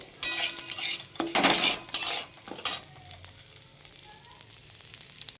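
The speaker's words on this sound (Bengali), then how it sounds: "কড়াইতে তেল দিয়ে দিয়েছি অল্প করে, এতে গোবিন্দভোগ চালটা ভেজে নেবো" Gobindobhog rice fries in a little oil in a metal kadai. Loud clattering scrapes of a spatula stirring the grains come in bursts, then settle into a quieter sizzle with occasional taps.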